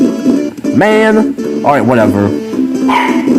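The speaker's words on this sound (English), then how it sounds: "That's my dog." A dog barks and yips loudly nearby in a few sharp, whiny bursts, overlapping with someone talking.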